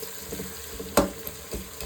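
Onions browning in a pot for beef bong paye, a soft continuous sizzle with light stirring clicks and one sharper tap near the middle.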